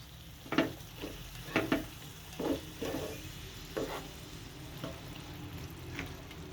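Tofu and snow peas stir-fried in a pan, a soft sizzle punctuated by about seven sharp scraping stirs in uneven rhythm, close and fairly quiet, with no speech.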